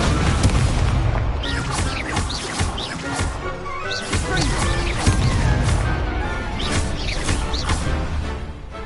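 Repeated booming blasts from the Expulso explosion spell in Hogwarts Legacy, loud and crashing in quick succession, with battle noise and brief voices mixed in.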